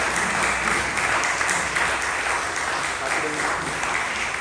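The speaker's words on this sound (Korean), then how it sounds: "박수로 한번 맞아주시면 감사하겠습니다." Sustained applause from a church congregation during a Sunday worship service, a steady dense wash of clapping filling the whole room without a break, with no voices standing out above it.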